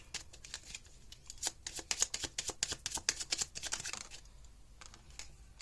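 Tarot cards are shuffled and drawn in quick, crisp bursts of riffling and snapping, close and fairly quiet, with uneven rhythm and short pauses between handfuls.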